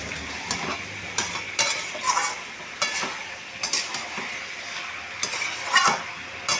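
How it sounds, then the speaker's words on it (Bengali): A spatula stirs a Bengali curry of raw jackfruit, potato and prawns in a pan, giving a steady sizzle broken by repeated scraping strokes and light metallic clinks, close and alone. "আর চিংড়ি মাছটাও দিয়ে দিচ্ছি, ঠিক আছে। নাড়াচাড়া করছি।"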